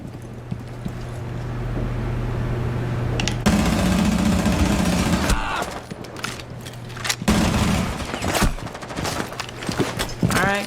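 Bursts of gunfire in the tactical shooter Rainbow Six Siege, loud sustained volleys and scattered single shots over game noise, with brief pauses between firefights.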